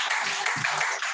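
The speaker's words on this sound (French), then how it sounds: "On acclame pour la parole de Dieu." A church congregation applauding in praise of God's word, a dense, steady wash of many hands clapping at once, moderately loud and unbroken for about a second.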